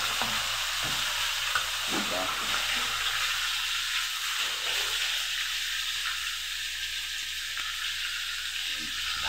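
Dried fish for balbacua frying in a pan, giving a steady loud sizzle and hiss throughout, with a few faint clinks of stirring.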